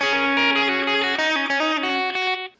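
Electric guitar with effects plays a fiddle solo from a song, a busy run of bright sustained notes that carries steadily, then cuts off at the end.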